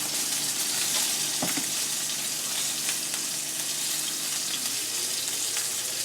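A salted filet steak sizzles in a hot pan, a loud, continuous hiss of frying fat with occasional crackles and pops, heard alone and up close.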